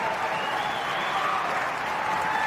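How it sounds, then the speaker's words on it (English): Sustained applause from a large crowd at an Alberta independence rally, a dense steady wash of clapping that holds at full strength without a break, with a faint tonal hum running underneath. "The room went crazy, and they're still clapping."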